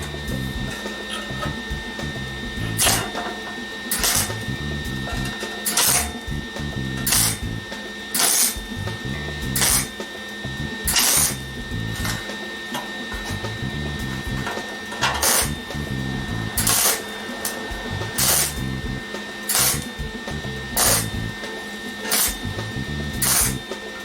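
A welder lays seam welds on the painted rear hatch of a rusty 1956 chop-top oval VW Beetle, producing a series of about fifteen short, sharp crackling bursts at regular intervals over a low background hum.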